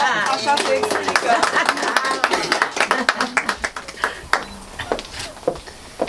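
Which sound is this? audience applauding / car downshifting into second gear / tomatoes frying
audience applauding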